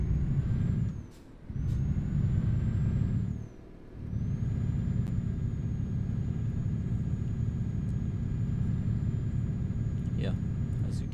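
A heavy truck pulling a double trailer in Euro Truck Simulator 2 rumbles steadily as it maneuvers to park, with the engine dropping out briefly twice and a short hiss near the end, under no talk.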